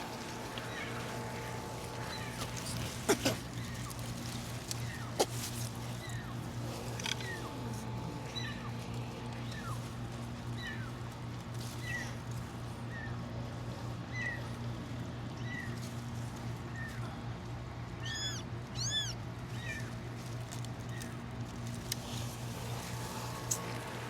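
Cats in a cardboard box give a few faint, distant meows, scattered across a long stretch over a steady low hum and background noise.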